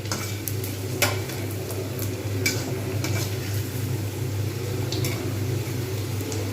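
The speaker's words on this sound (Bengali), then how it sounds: "মিডিয়াম আঁচেতে কিন্তু এগুলো এরকমভাবে সব কটা ভেজে নিতে হবে" Fish roe fritters fry in a little oil over medium heat, giving a constant low bubbling sizzle with a steady hum underneath and occasional light clinks of a utensil against the pan.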